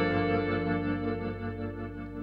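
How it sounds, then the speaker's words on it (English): A GFI System Specular Reverb pedal in its purple tremble mode sustains a dense, shimmering wash of reverb with a gentle tremolo pulse, holding a steady chord-like drone without any talk. "reverb and yeah, some kind of tremolo."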